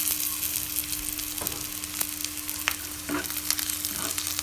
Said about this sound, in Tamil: நல்லா கோல்டன் கலர் வர வரைக்கும் ஆனியனை நல்லா வதக்கி விட்டுட்டு இப்போ பெருங்காயத்தூள் ஆட் பண்ணிக்கலாம்